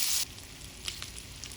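Soft, steady sizzling of sausage in a frying pan, with a brief louder hiss at the start and a few faint crackles.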